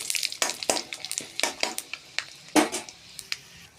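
Cumin and five-spice (panch phoron) seeds are stirred in a pan with a metal spatula, scraping and clinking in uneven strokes over a faint sizzle, close up and without talk.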